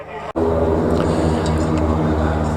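Royal Danish Air Force T-17 light propeller aircraft in a flying display, a steady loud engine drone that cuts out for an instant near the start, then holds evenly close by.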